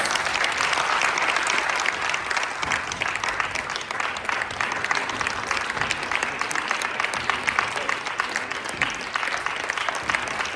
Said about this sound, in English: So give this man a round of applause.